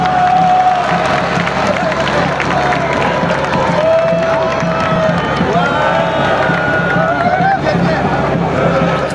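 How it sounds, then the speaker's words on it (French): A large, joyful crowd at the launch of erosion-control works in Dongo cheers and applauds frantically, a dense, loud, continuous roar of clapping, shouting and babble with voices rising throughout. "sous les applaudissements frénétiques de la foule ivre de joie"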